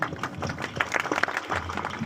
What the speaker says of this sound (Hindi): वाह वाह वाह, ताली मारिए।